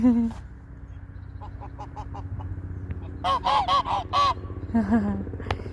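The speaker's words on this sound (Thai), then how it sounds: "เลี้ยงเป็ดเลี้ยงห่านไว้กินไข่" Geese kept with ducks at a rural home beside a forest honk in loud, close bursts, a few single calls followed by a rapid clustered series, over steady low background noise.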